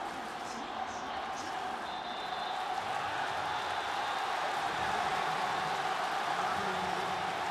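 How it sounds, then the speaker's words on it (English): A baseball stadium crowd roars in a steady, dense wash of noise at a Japan versus Chinese Taipei game, sustained and fairly loud throughout with no clear breaks. "And you hear the roar of the crowd"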